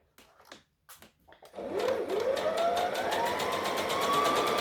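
A sewing machine stitches and back-stitches a seam on a Halloween costume, a few short starts followed by a long, steady, rapid whirring run up close, with no talking.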